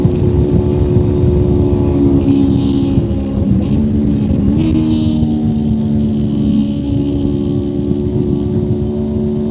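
A 1999 Honda VFR motorcycle with a 98-horsepower engine drones steadily at high revs on a Nürburgring Nordschleife lap, its loud, continuous buzzing note dipping briefly and climbing again as the rider shifts, with wind rushing over it.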